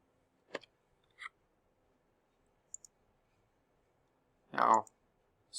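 Sparse, faint computer mouse clicks while drawing in Onshape CAD software, a few isolated taps spread across a quiet room.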